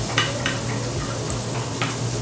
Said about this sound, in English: So you want to saute the onions first.